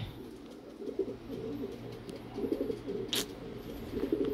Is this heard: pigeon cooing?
yes